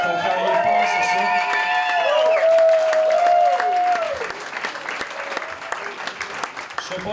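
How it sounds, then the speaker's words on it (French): A festival audience applauds its volunteers, who spent the winter building wooden games. Dense, sustained clapping fills the first four seconds with tones ringing over it, then thins to scattered claps. "ils méritent ces applaudissements-là"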